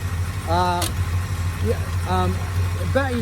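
A 1970 Plymouth GTX with a 440 big-block V8, Hemi mufflers and a new H-pipe, idles with a steady low rumble while someone talks over it in bursts.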